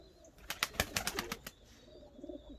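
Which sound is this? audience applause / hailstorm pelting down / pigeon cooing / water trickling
pigeon cooing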